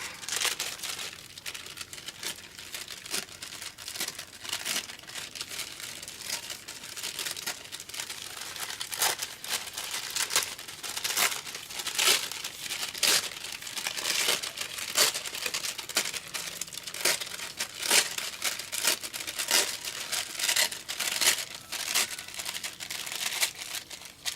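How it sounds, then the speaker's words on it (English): Paper tape being torn and handled, a continuous dense crinkling and ripping at close range, steady and fairly loud throughout with frequent sharp bursts and no talk. "It's not tearing like I wanted it to tear."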